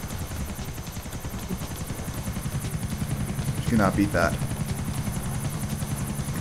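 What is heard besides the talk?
helicopter flying in GTA IV video game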